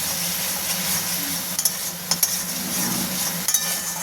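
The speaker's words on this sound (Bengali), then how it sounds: "এবার এটাকে ভালো করে কষে নিতে হবে।" Potato and pointed gourd curry with turmeric being stirred in hot oil in a pan, a steady close sizzle with a few sharp clinks of a spatula against the pan.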